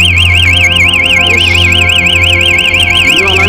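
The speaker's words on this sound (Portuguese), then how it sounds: "A moto disparou do nada, rapaziada." A loud electronic motorcycle alarm wails in a rapid, rising-and-falling warble, continuous and close, sounding on its own inside a tunnel without any talking.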